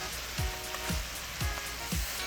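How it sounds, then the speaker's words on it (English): A hot pan deglazed with shrimp stock after crab and tomato sauce sizzles steadily, with four evenly spaced scraping stirs sweeping through the close, crackling hiss. "deglazing the pan with a little bit of shrimp stock"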